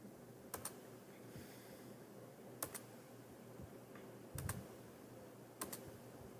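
Computer keyboard typing while entering a location during insurance software setup: a few short bursts of clicking keys spaced across a quiet background, with no talk.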